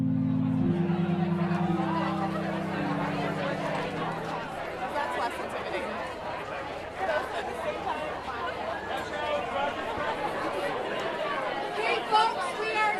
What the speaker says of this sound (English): So I'm gonna play you a few crowd sounds I've taken